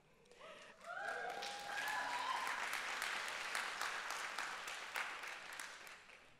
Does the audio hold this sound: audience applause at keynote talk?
yes